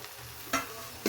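Grated coconut is stirred into a simmering pot of upsaaru, a Kannada lentil-and-greens broth, with two brief spoon scrapes against the pot over a soft, steady sizzle.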